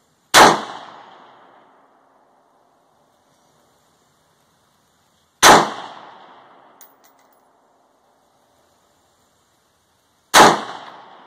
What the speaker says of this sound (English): we'll roll in some clips of some Halloween targets getting shot up.